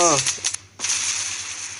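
A short burst of sharp, booming cannon shots from the fighter-jet video game Sky Fight, one hitting after another, followed by a hissing, crackling rush of noise.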